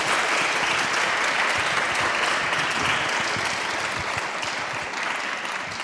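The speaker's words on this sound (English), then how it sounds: "let's give them all a round of applause" Thick, loud applause from an audience at a university women-in-leadership panel event rolls on steadily as a dense wash of clapping, easing slightly toward the close.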